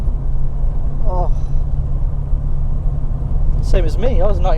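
A 1989 Fiat Uno Turbo's engine drones loud and steady from inside the car, a deep continuous rumble, with a voice speaking briefly near the end.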